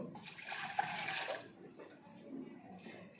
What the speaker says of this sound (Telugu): అదేవిధంగా ఇప్పుడు మనం కావాల్సిన వాటర్ యాడ్ చేసుకుందాం.